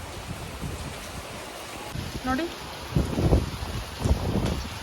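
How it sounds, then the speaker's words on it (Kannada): Heavy rain falls over hilly countryside with a steady, broad hiss, while someone talks briefly over it and a few louder low thumps come through. "ಅಷ್ಟು ಮಳೆ ಬರ್ತಾ ಇದೆ ಗೊತ್ತಾ"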